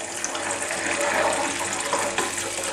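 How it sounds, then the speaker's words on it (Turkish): Sumac water being poured over tomato paste frying in a pan, heard as a steady splashing pour with hissing throughout, close and fairly loud, with no talk. "Salçayı iyice kavurduktan sonra önceden hazırlamış olduğum sumak suyunu da üzerine"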